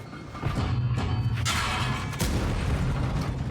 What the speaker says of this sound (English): Okay, good shot, Max.